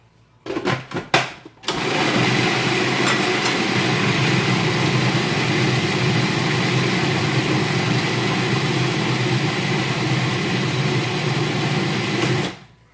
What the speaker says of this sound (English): we're gonna put those in, and we're gonna grind them down again